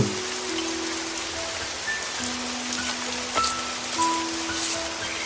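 Steady rain pours on a village evening, an even, hissing wash of drops on surfaces with no voices.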